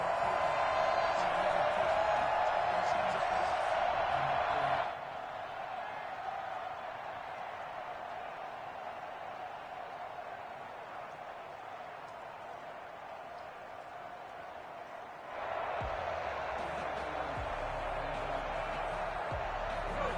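A large football stadium crowd at a Washington vs. Rams NFL game keeps up a steady, distant roar and murmur for about twenty seconds, dropping somewhat quieter in the middle before swelling again toward the end.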